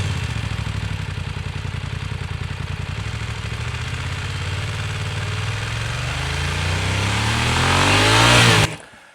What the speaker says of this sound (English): This is the motorbike sample,